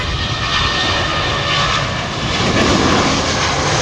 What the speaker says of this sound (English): You can hear the distinctive Rolls-Royce hum.